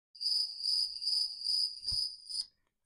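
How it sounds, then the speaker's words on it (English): Crickets chirp in loud, close, pulsed trills, about five bursts in steady rhythm, then fall silent. "Crickets?"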